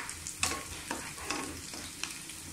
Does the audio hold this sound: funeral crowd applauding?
no